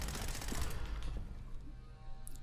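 Fully automatic weapon fire in the video game Fallout 4 in survival mode, a rapid rattling burst of shots that fades into a low, muffled rumble, fairly quiet overall.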